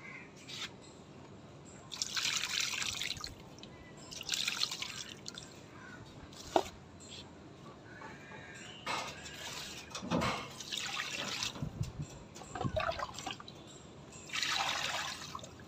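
Cut pieces of pangas fish are rinsed in water, with intermittent bursts of splashing and trickling and a steady drip between them, close and moderately loud with no talking.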